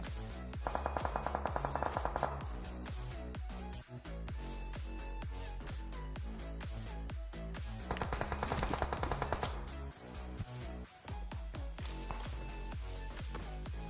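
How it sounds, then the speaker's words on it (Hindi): Rapid gunfire in a battle royale video game, with dense repeated shots and two bursts of fast automatic fire over a constant loud backdrop of game sound and music. "लेकिन पीछे फायरिंग होने लगी थी"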